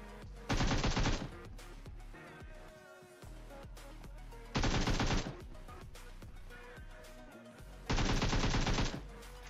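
Three loud sustained bursts of automatic gunfire in PUBG Mobile, evenly spaced about four seconds apart, each lasting under a second, over steady game background noise.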